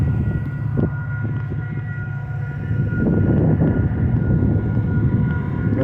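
A train passing by a rail line that sees frequent traffic, heard as a steady low rumble and roar that swells louder in the second half, continuous with no voices.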